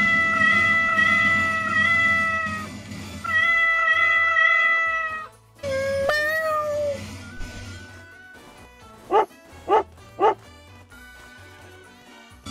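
A cat in the gas-station game Pumping Simulator 2 meows in drawn-out, wavering tones over a steady game backdrop, ending with three short, bright cries in quick succession.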